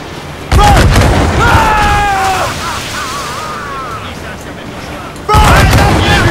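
Enemy ship cannon fire in Assassin's Creed IV Black Flag: two heavy booming volleys, one at the start and one near the end, with game music and a voice in between.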